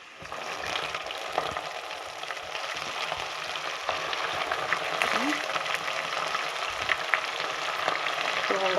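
Onions sizzle steadily in a pan with ginger paste as they turn golden for pulao. The frying hiss is continuous and fairly loud, with occasional stirring clinks.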